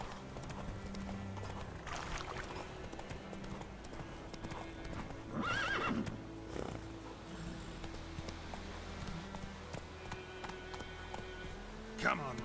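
Hooves clip-clop from a horse in The Witcher 3 video game, with a couple of neighs and whinnies over a steady ambient game soundscape, moderately loud and continuous throughout.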